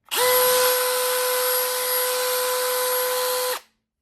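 A DeWalt 20V Max brushless drywall screw gun runs with its trigger locked on, its motor whining steadily at a constant pitch for over three seconds, loud and close, then cutting off abruptly.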